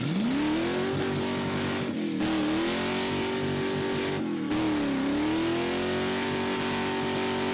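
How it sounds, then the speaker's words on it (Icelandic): A light pick-up truck with a 360 engine revs hard and spins its wheels, the engine note holding high and steady, dipping twice and climbing again, loud and close, with no talk over it. "Á ekki neinum erfiðleikum með að spóla á svona léttum pick-up."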